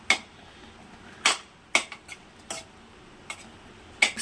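Cheese Maggi noodles being mixed in a pot, a handful of sharp, irregular metallic clinks of a spoon striking the pot over faint background quiet, close and distinct.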